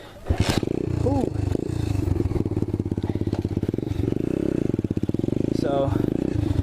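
An Apollo 125cc dirt bike engine roars loudly and close during a wheelie, revving up into a steady buzzing drone with throttle swells and brief dips.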